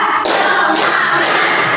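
A primary school class claps together in a counted rhythmic routine, producing loud, dense bursts of many hands that shift roughly every half second, with children's voices mixed in.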